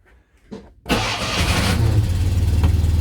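A Smart car engine cranks after a few faint clicks, then catches and settles into a loud, steady close idle with a slight rhythmic pulse.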